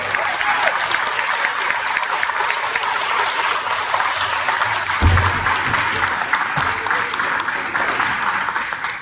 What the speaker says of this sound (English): So please clap.